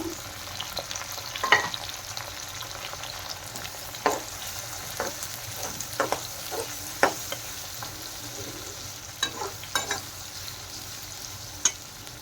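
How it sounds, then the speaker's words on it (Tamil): Onions sautéing in oil with ginger and garlic for bitter gourd puttu, a soft continuous sizzle broken by scattered scrapes and taps of a stirring spoon, with no voices. "வெங்காயம் நல்லா பொன்னிறமாக வதங்கணும்"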